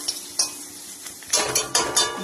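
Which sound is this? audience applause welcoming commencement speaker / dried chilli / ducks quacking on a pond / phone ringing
dried chilli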